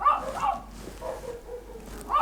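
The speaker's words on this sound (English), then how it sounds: "that's our dogs making their opinions on Harvey Weinstein abundantly clear" Several dogs bark a few times indoors at moderate distance, with short muffled barks at the start and end and quieter yips between them.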